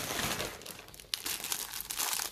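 Someone opens a Temu haul package by hand, and the plastic crinkles and crumples close up in short bursts with a quick tearing rip near the middle. No one talks.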